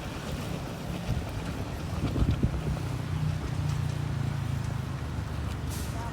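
Thermite welding reaction burning on a railway turnout rail at a double-track rail construction site, heard as a steady outdoor roaring hiss with a brief louder crackling surge partway through, moderately loud with no speech.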